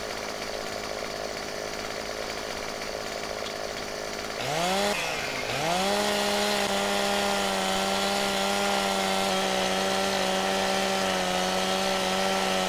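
Chainsaw trimming a bush in the video game Farming Simulator 15, a loud, steady engine drone that revs up, dips and then holds a constant buzzing pitch alone for several seconds.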